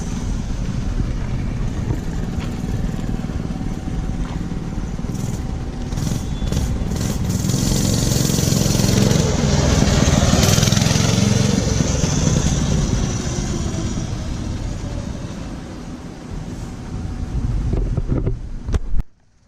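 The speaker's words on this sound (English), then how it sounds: "after a few speed tests with the mini bike, we've got a little straightaway right out of the lot" A Mega Moto 212cc minibike engine revs through a speed-test run, loud with heavy wind buffeting, its roar swelling toward the middle as the bike passes close and fading before a sharp knock at the end.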